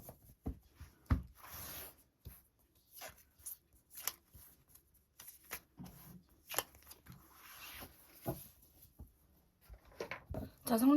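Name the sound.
drawing tarot cards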